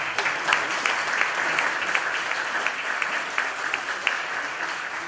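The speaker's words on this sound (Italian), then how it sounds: "applauso salutarli" Steady applause from a crowd greeting the organisers at the opening of the 50th hillside wine show in Refrontolo, Rua di Feletto, with sharp individual claps throughout, moderately distant and sustained.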